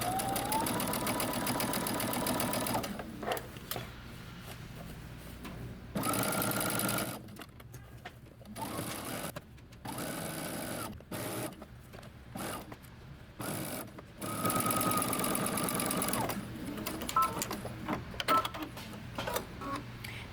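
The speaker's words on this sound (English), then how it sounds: "now you're going to stitch all the way around using 3/8 of an inch seam allowance" A sewing machine stitches a 3/8-inch seam around a dress or top, running in loud bursts of rapid mechanical whirring and clatter, with short pauses between runs.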